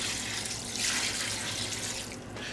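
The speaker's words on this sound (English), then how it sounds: "now I can add 36 ounces of water" Water pours steadily into an Instant Pot for a pressure-cooker dish, a continuous close splashing stream running unbroken through the whole stretch with no talk over it.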